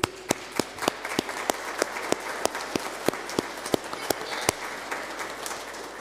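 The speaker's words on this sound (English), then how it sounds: "I'm going to give you a round of applause" A congregation at a school's First Holy Communion service applauds in church. Sharp, evenly spaced claps stand out over a softer, continuous bed of clapping.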